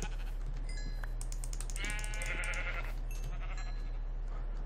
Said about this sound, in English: Yes, there's enough sheep here too.